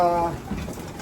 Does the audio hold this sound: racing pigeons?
yes